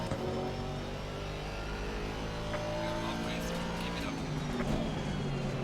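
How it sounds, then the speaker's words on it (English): An Aston Martin GT4 race car in the Assetto Corsa Competizione racing game gives a steady, loud engine drone with rising and falling tonal harmonics as it runs past, continuous throughout. "When you're listening to the sounds of a beautiful Aston Martin GT4 car"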